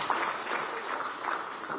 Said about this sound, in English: I think we need to clap for her